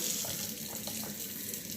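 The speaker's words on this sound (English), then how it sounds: "You're going to turn your water on" Water from a tap runs steadily at a sink during a surgical hand scrub, a continuous broad hiss that stays level and close with no voices.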